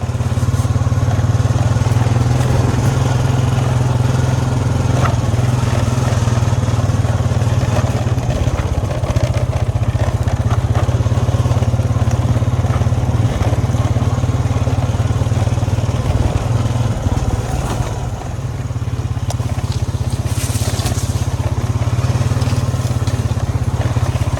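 An ATV engine drones loud and steady while riding a backcountry trail, a continuous close rumble that barely varies for the whole stretch, with no clear speech.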